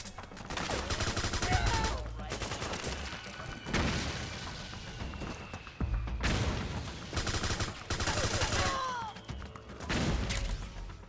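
Dense gunfire and explosions in Metal Gear Solid 4 arrive in heavy bursts separated by brief lulls, loud and close, with machine-gun rattle and booms, and occasional talk mixed in.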